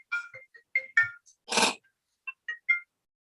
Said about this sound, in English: Let me just get this phone.